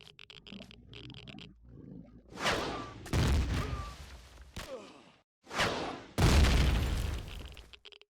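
Weapon fire and explosive blasts while attacking a turret in Empyrion Galactic Survival, in an abandoned depot's lower levels: several loud separate bursts with whooshing tails and short gaps between them.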